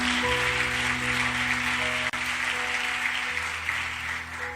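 A church congregation claps in praise during a sermon, producing steady, dense applause that is loud and continuous throughout, with a faint sustained organ-like tone underneath.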